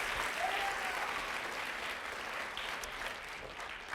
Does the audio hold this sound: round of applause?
yes